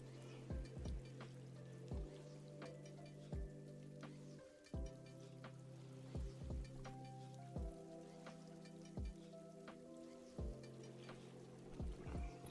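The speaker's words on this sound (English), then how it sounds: "At least it's raining in the game." Gentle rain falls in the video game Critter Cove, a soft steady patter with repeated droplet plinks and splashes at a low level, layered over a quiet sustained musical drone.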